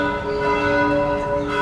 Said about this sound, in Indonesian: Dendang lonceng dari gereja katedral sesekali mengiringi langkah kaki para pengunjung